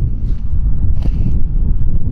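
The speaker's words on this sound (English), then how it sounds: "Hopefully the wind's not killing us." Wind buffets a microphone outdoors beside a Land Rover Defender, a loud continuous low rumble with gusty flutters and no speech.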